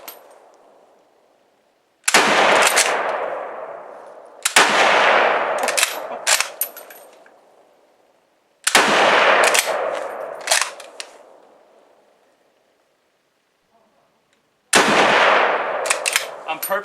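Lee Enfield No.1 Mk. III SMLE rifle firing outdoors, four sharp loud shots spaced a couple of seconds apart, each followed by a long rolling echo that fades before the next.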